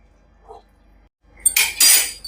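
A metal kadai is set down on a stove with a soft knock followed by two bright, ringing metallic clanks, close and loud.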